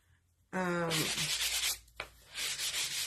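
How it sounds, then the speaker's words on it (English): A painted snowman craft is lightly sanded, giving close, loud rasping strokes of sandpaper in two bursts separated by a short pause and a single tap, no talk. "I'm going to lightly sand my guy here."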